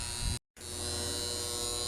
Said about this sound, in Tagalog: para naman ito sa mga magnetic contactor. Dito yung maingay.